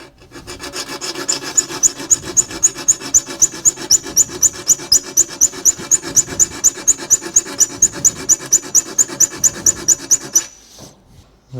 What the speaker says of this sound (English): So we just need to get a file on there now.